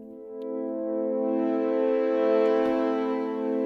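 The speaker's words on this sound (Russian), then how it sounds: "И вот пример звучания валторн в исполнении двух музыкантов." Two French horns from the Spitfire Symphonic sample library hold a sustained, mellow chord that swells gently and stays steady, with a faint click in the middle.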